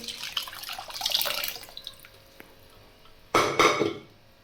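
Water poured into cooked moth bean dal in a kitchen pot: faint clatter, then one brief, close splashing pour near the end.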